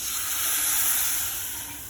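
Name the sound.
tempering poured into kadhi, sizzling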